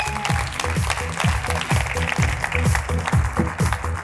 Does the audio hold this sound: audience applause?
yes